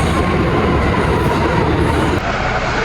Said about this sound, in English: The C train. It's time right now.